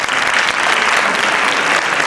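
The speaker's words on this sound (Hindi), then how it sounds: "बच्चों का उत्साह बढ़ाने के लिए आप उनका जोरदार तालियों से स्वागत कीजिए" Dense, steady applause from an audience at a play school annual day function, cheering on young children; continuous loud clapping filling the whole stretch with no pauses.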